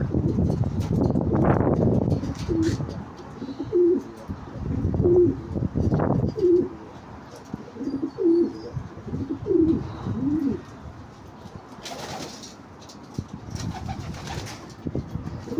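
Pigeons coo repeatedly in soft, low, rhythmic calls, close by, with some rustling and a brief flutter of wings between the coos.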